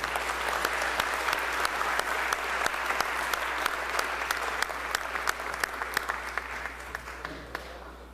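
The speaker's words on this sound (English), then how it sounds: "let's all give them a big round of applause" Sustained applause fills a state house chamber, a steady wash of many hands clapping with a few sharper individual claps standing out, holding at an even level before easing slightly at the end.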